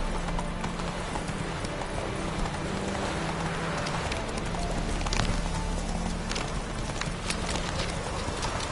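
Steady clip-clop of the horse Roach's hooves galloping in The Witcher 3 game, a fast even rhythm running throughout over a constant background wash, with no talking.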